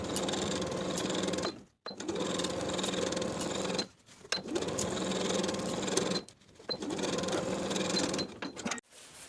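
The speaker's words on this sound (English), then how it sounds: "Then we'll sew from the bottom of the front and back main pieces across the seam" A sewing machine stitches dress seams, running in four steady bursts of a few seconds each, separated by short pauses, close and fairly loud with no talking.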